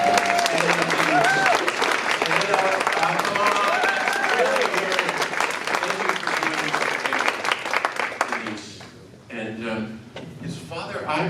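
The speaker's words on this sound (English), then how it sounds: "Please join me in giving a round of applause to Denise" Audience applause for Denise at a gathering in a room, a sustained dense crowd clapping with some cheering voices mixed in, fading around eight seconds before a speaker's voice resumes.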